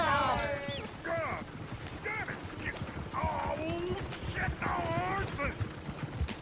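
Horse hooves clip-clopping in the Red Dead Redemption 2 video game, a steady patter of footfalls running under frequent character speech and game chatter throughout.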